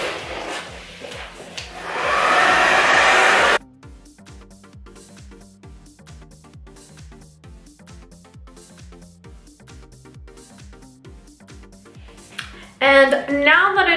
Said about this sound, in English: So now I'm gonna go back with my blow dryer, and I'm gonna finish drying off the little damp portions that I have